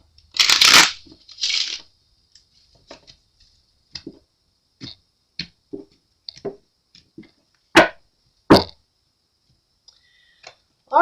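Tarot cards being shuffled by hand in a quiet room: two bursts of riffling at the start, then scattered soft taps and flicks, and a few sharp card snaps near the end, close and fairly loud with no talk.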